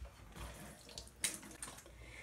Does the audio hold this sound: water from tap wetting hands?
yes